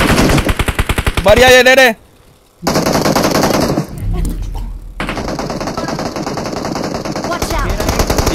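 Loud, rapid automatic gunfire in BGMI, dense bursts broken by a brief silent gap, with excited players talking over the shooting.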